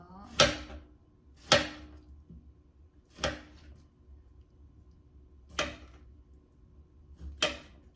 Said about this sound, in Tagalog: hiniwa natin paghiwa na isda natin